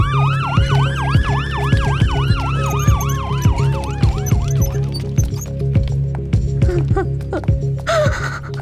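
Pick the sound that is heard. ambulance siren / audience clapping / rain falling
ambulance siren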